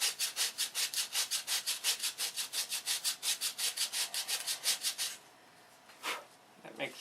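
Sandpaper stuck to a paint stick rubs back and forth on a small wooden wing tip, making rapid, rhythmic close scratching strokes, then a pause and a couple of final rubs.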